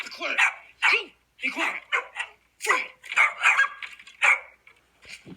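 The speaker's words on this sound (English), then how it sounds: "So they're barking." Several dogs bark and yip in quick irregular bursts, loud and near, with a few whimpers mixed in and a person's voice sometimes overlapping.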